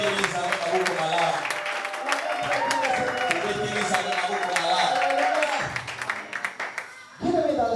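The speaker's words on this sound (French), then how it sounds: "Donne-moi tes acclamations." A church congregation at a Sunday service breaks into sustained applause and cheering, loud and dense with voices mixed in, fading toward the end with a brief renewed burst.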